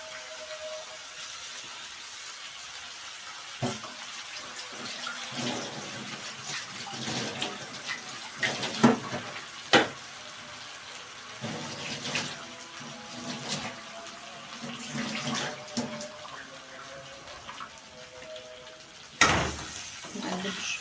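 Tap water running into a pot as water is added to rice with salt for an Egyptian minced-meat dish, a steady wash of flow with occasional clinks and splashes, fairly close and moderate in level.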